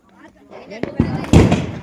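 Diwali firecrackers burst at a wedding-season celebration, several sharp bangs growing louder and closer in quick succession, with people talking throughout.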